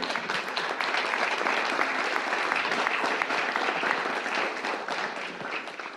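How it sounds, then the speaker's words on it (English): A room full of attendees at a biodiversity finance roadmap event clapping together, dense and sustained applause at fairly loud level that holds evenly throughout. "So I'd say we give ourselves a round of applause."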